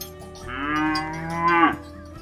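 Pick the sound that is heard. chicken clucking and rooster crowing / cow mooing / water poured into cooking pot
cow mooing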